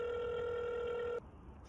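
An outgoing phone call rings back with a steady electronic tone for over a second before cutting off abruptly into quiet room noise.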